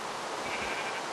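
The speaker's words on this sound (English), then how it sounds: "Oh, hey sheep. How'd you get through?" Sheep in Minecraft lets out a single short bleat, soft and somewhat distant, with nothing else around it.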